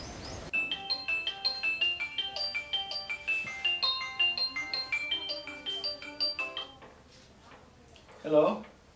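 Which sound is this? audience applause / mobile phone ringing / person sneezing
mobile phone ringing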